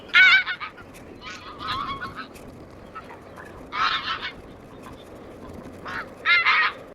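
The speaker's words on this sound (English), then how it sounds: "During nesting, they use a penetrating alarm call that varies in intensity based on the threat." Snow goose alarm calls and honks, loud harsh bursts in irregular clusters separated by short pauses, close by, with no talking.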